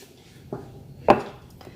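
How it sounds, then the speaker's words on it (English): Apples being chopped with a knife for fried apple fritters, two or three sharp board strikes spaced apart, one louder than the others, close and clear with nobody talking. "Just chopping them up like potatoes, pretty much."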